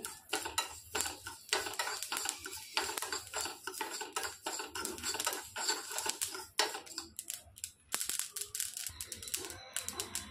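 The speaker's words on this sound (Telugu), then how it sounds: "ఇందులోనికి 1 స్పూనుడు ఆవాలు వేసుకోవాలి. బాగా వేయించేసుకోవాలి." Mustard seeds fry in a pan for red chilli pickle, crackling and popping in dense, uneven sputters that stay close and fairly loud, with no talking.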